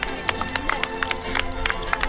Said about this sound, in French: Super les enfants, vous pouvez vous applaudir.